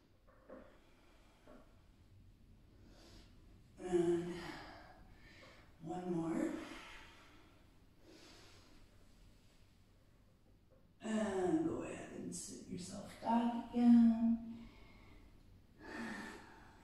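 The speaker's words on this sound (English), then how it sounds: "Keep breathing through your nose." Strong, rhythmic breaths in and out through the nose during a kundalini yoga kriya, with bursts of forceful exhalation separated by quieter stretches of softer breathing.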